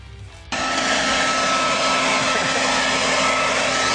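A vacuum cleaner switches on abruptly after a quiet half second and runs with a loud, steady whine while sucking up broken glass indoors.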